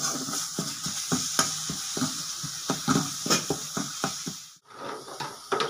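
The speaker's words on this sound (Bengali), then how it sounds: "আর একটু ভাজা ভাজা করবো।" Food fries in hot oil in a pan with black pepper powder added, the sizzle broken by a rapid run of sharp stirring scrapes and clinks against the pan before a brief lull and a return of the hiss.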